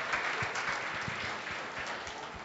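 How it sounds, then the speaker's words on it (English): Audience applause at a student union election results night: steady, dense clapping from a crowd with a few sharper individual claps standing out near the front. "If you'd like to give her a round of applause,"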